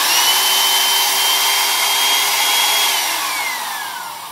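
A Ryobi TR-30U laminate trimmer router running alone at close range, a loud steady high-pitched whine that holds, then drops in pitch and winds down as it is switched off.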